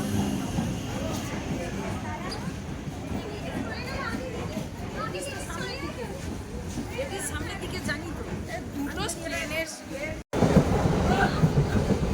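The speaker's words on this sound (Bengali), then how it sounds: "ট্রেন এসে গেছে আমরা নামখানায় যাব" A passenger train on the line to Namkhana pulls in at a station, rumbling and clattering under a busy crowd of voices and children, with a louder burst of noise near the end.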